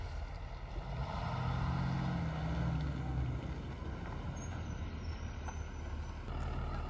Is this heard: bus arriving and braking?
yes